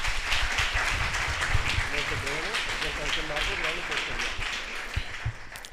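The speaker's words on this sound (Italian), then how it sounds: "Un applauso." Audience applause at an Italian education festival event, a steady wash of clapping from a crowd lasting several seconds, with some voices mixed in underneath.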